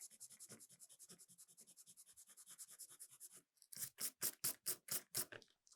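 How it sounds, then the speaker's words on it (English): A rubber eraser rubs a pencil line off paper in quick back-and-forth strokes, a soft steady scratching at first that turns into louder, sharper scrubbing bursts near the end. "I can take a rubber now and get rid of that pencil line on the front."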